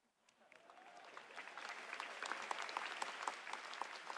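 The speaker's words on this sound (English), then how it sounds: "And a round of applause for our pre-game show superstars, ladies and gentlemen." Audience applause for pre-game show performers at NVIDIA's GTC Taipei 2026 keynote, building from scattered claps into steady, dense clapping from a large crowd that keeps going to the end.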